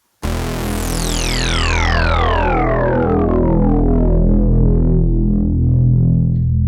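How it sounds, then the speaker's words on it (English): A loud, thick unison bass tone from an Oberheim TEO-5 analog synthesizer enters suddenly and sweeps downward, its many detuned layers swirling together as it sustains. "it's made up of a unison patch that utilizes however many voices the synth has"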